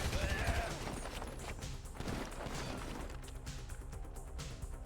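A submachine gun fires in a video game in rapid, dense bursts that merge with loud game effects and background noise, fading to lighter rattles near the end.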